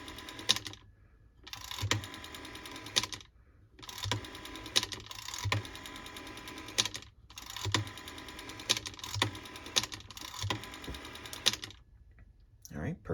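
A rotary dial on a 1980 German TeKaDe FeTAp 611 telephone is turned and released several times, each return making a close burst of rapid clicking pulses separated by short silent pauses.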